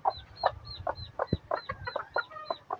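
A native chicken hen with chicks clucks softly and repeatedly in a quick, regular rhythm of short clucks, close by and fairly quiet, with no voices.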